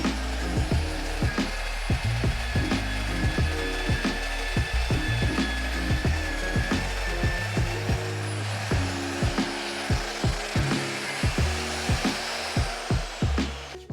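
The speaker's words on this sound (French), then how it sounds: "Allez, cette fois-ci on perce à la verticale." An Evolution EVOMAG42 industrial magnetic drill bores vertically, producing a constant high motor whine over a rapid, rhythmic chattering and grinding of the cutter biting into metal, loud and close throughout.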